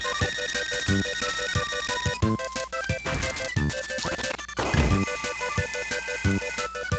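A giant alarm clock enemy in the Game Boy Advance-era Kirby: Nightmare in Dream Land rings with a steady, clattering electronic bell that pulses rhythmically over upbeat chiptune music for several seconds.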